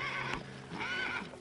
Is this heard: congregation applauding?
no